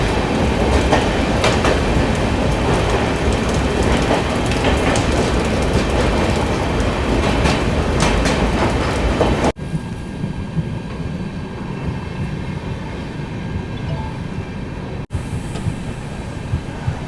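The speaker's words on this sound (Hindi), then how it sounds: "तो अपनी अगरतला देवगढ़ एक्सप्रेस निकल चुकी है अगरतला से" The Agartala Deoghar Express rumbles along the tracks with steady loud clickety-clack of wheels on rails, the roar dropping abruptly to a quieter, muffled run partway through.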